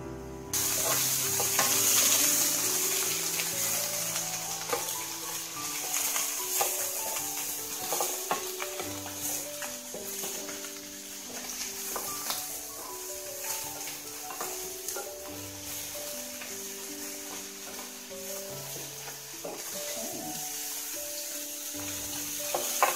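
Pork ribs frying in a pan, a steady crackling sizzle with scattered pops and occasional scraping clinks of a utensil, close and continuous throughout.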